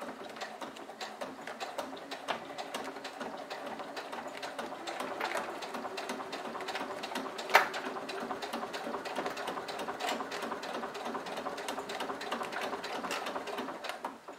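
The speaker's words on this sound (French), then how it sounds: "j'ai bien mis mon pied téflon, j'ai allongé mon point, donc on est parti pour la surpiqûre" A sewing machine topstitches slowly with a Teflon presser foot and a lengthened stitch, making a steady, close mechanical whir and patter. The stitching runs without pause, with one brief sharper click midway.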